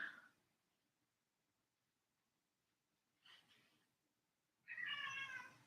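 A cat meows three times, close but quiet: one short call at the start, a softer one midway and a longer, louder meow at the end, with near silence between.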